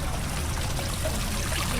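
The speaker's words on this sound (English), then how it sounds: "Beautiful waterfall here too" A garden waterfall at Epcot's Flower and Garden Festival pours in a steady, dense rush of splashing water, close and continuous for the whole stretch with no voices.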